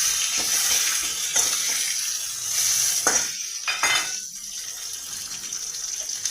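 Tomatoes dropped into hot oil with a cumin and whole garam masala tempering, a loud bright hissing sizzle with stirring clatter, the sizzle swelling in bursts before settling to a steady crackle, close up with no talking.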